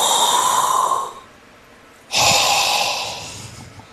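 A voice imitates an odd noise coming from under the hood of a car, making two breathy, snorting bursts with a short pause between them, loud and close.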